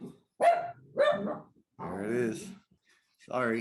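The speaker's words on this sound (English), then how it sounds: "that's the dog." Indoors, a dog lets out two sharp barks, then a longer bark or growl, mixed in between a person's short spoken remarks.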